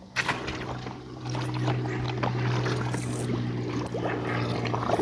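A Tiger Shark QC robotic pool cleaner is lowered into a large backyard pool, with steady sloshing and trickling water and a low continuous hum close by.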